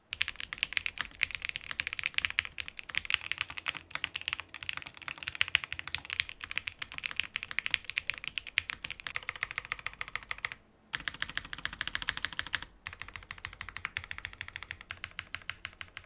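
Steady, fast typing on a tenkeyless mechanical keyboard fitted with Klein Blue keycaps, the keystrokes clicking close and crisp with no talking, broken by one short pause near the eleven-second mark.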